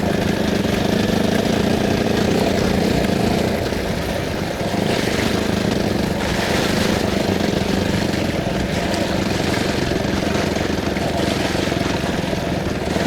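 A motorcycle in third gear chugs steadily downhill on a Peak District trail. The engine drones loud and unbroken, mixed with wind rumble.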